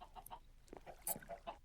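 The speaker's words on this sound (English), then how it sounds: "So here are the chickens." Minecraft chickens clucking faintly, a scattering of short, soft clucks and chirps repeated irregularly over a quiet background.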